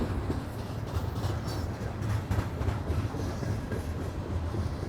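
A long coal train rolls steadily past, its heavy rumble and rattling cars sustained and fairly close throughout, with no voices over it.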